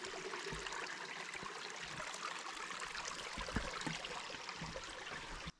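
A river runs straight down a misty mountain hiking trail on New Hampshire's Appalachian Trail in the Kinsmans, giving a steady, close rush of flowing water with no voices.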